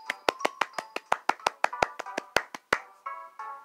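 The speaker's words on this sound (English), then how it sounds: "Hopefully you heard me clap" A person claps hands about fourteen times in a quick, fairly even rhythm, close and sharp, with a few soft tonal game sounds afterward and no talking.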